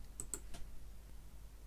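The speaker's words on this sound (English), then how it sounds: "So to do that I can press L on the keyboard" The L key pressed on a computer keyboard, a few quick, soft clicks close by, with no talk.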